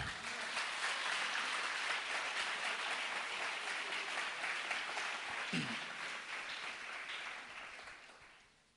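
A church congregation applauds in praise, a dense, continuous wash of clapping that holds steady before gradually fading toward the end.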